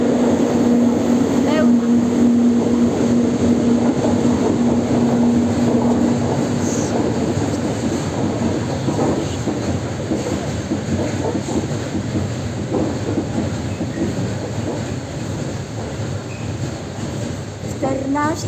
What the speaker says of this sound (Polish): niebieska lokomotywa jedzie